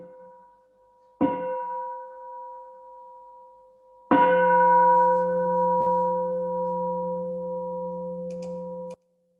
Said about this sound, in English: Why don't we have a sound of the bell?